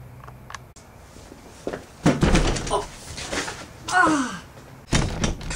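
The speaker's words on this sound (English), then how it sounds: "Maybe I could break the door down." A stuck door is forced, with loud thumps and rattling bangs in bursts, mixed with grunts and exclamations from someone straining at it.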